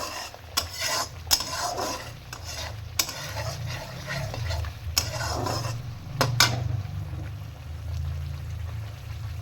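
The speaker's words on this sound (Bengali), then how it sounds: "খুব ভালোভাবে কষে নেব যতক্ষণ তেল না ছেড়ে দিচ্ছে।" Spice masala sizzles in oil in a pan while a spoon scrapes and stirs it, giving repeated metallic knocks against the pan over a steady low frying hiss. Close and moderately loud, with no talking.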